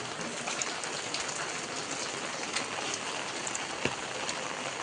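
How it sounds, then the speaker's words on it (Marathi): Steady rain falls over a Konkan village at the start of the monsoon, a dense, even hiss of drops on surfaces with scattered louder splashes and one sharp tap near the end, with no voices. "एकदम भारी वातावरण केलंय पावसानं, एकदम खतरनाक"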